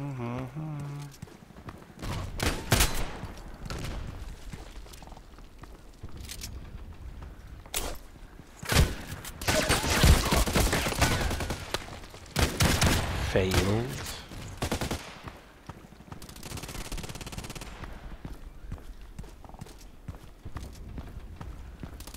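Shotgun blasts in a video game land as scattered heavy booms, some clustered in quick succession, amid game noise with stretches of quieter gaps.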